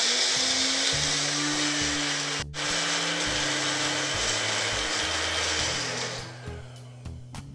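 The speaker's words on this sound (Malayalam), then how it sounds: "3 പച്ചമുളകും, 1/4 ടീസ്പൂൺ മഞ്ഞപ്പൊടിയും കൂടി ചേർത്തിട്ട് തരിതരിപ്പായി ഒന്ന് അടിച്ചെടുക്കാം." A mixer grinder whirs loudly, coarsely grinding coconut, shallots, green chillies and turmeric for a moringa leaf omelette, its motor steady with brief pauses and pitch shifts, then easing down toward the end.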